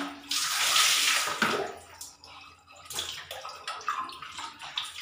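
Water splashing and sloshing as laundry is washed by hand, bursts of wet splashes and pouring in quick irregular rhythm, close and fairly loud.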